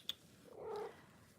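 A pet cat gives a soft, brief purring rumble with a faint chirpy vocal note, quiet and close, lasting under a second, with no talking.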